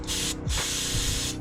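Carburetor cleaner sprays from an aerosol can into the holes of a carburetor in two close, steady hissing bursts with a short gap between them. No voices are heard.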